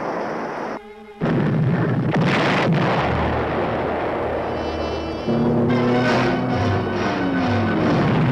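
Torpedoes fired from a submarine in a 1958 war film trailer: a dull muffled launch thump, then a deep rumbling rush with rising tonal whine and hiss, loud and close, without speech.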